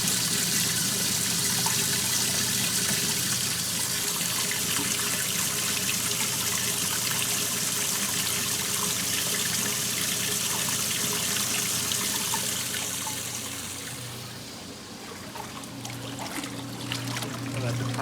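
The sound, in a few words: water flowing out while unwinterizing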